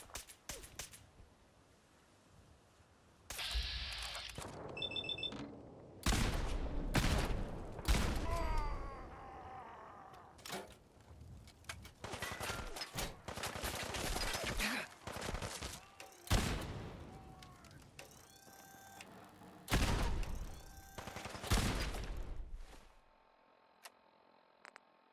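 Bursts of gunfire from an odd weapon in Fallout 4, sharp clustered cracks and rattling volleys coming in several separate loud spells, with quieter stretches of game ambience between them.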